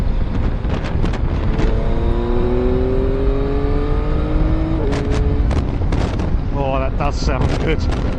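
Yamaha MT09 motorcycle with an updated exhaust, loud close engine revving that rises and falls in pitch, with quick shifts near the end and sharp bursts from the pipe.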